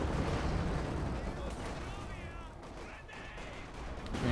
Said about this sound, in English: Grenade off, anti-tank grenade going off.